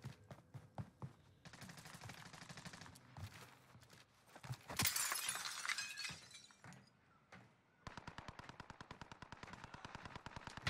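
Gunfire in Call of Duty Warzone on Rebirth Island, with bursts of rapid automatic shots, a loud glassy crash in the middle, then a steady, fast stream of close fire to the end.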